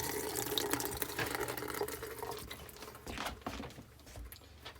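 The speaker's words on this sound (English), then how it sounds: "chase this down with a little bit of fresh water" Fresh water runs and gurgles through the water lines of an RV while it is being winterized, a steady, fairly faint splashing flow with small clicks and knocks and no talking.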